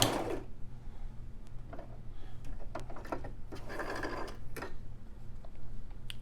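A Brother LX3817 sewing machine running a backstitch, with short bursts of mechanical whirring and clicking needle strokes separated by pauses, moderately quiet and close, with no speech.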